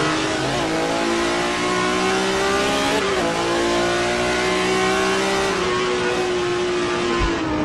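Number 0 BMW M1 Group 5 historic race car in a virtual sim race at Road Atlanta, its engine holding a loud, steady high-revving drone with a brief dip near the middle before climbing again, with no talk over it.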